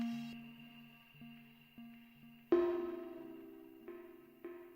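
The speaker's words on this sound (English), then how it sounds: "That should be like the weird delay thing that's in the Parasites firmware." Weird delay effect from the Parasites firmware on a Eurorack module, tonal synth notes decaying and repeating in echoing steps with shifting pitches, no talking.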